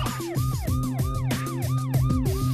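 An ambulance siren close by on a country road, loud and continuous, with rapidly repeating swooping wails layered over a steady low engine hum.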